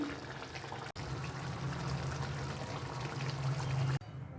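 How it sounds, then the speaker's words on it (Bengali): Raw mustard oil is poured from above over aloo posto, a potato and poppy seed dish, as a steady, close, gentle liquid stream lasting a few seconds between two brief cuts. "এবারে ওপর থেকে দেব সামান্য একটু কাঁচা সর্ষের তেল।"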